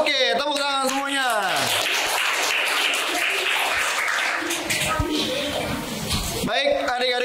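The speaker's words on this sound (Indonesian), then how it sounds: "Oke, tepuk tangan semuanya." A class of primary school children claps together for several seconds, a dense close burst of hand claps, with an adult teacher's voice before and after.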